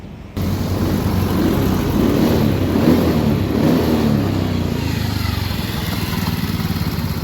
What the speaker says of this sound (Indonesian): saya mau tes motor Honda Beat